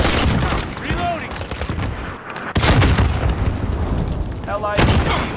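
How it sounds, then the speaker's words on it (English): Grenade blast in a first-person shooter match, a sharp heavy boom midway that cuts through ongoing gunfire and game effects, with a voice speaking over the busy battle noise. "Grenade out!"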